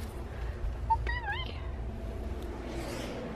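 A startled house cat lets out a single short, rising meow, fairly close and over low background rumble, followed by quieter rustling.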